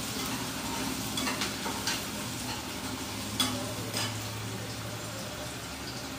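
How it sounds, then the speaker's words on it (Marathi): Spices temper in hot oil for poha, sizzling steadily with occasional spoon scrapes and stirring knocks, fairly close and moderately quiet. "छान फ्राय झाले, तडका झाला."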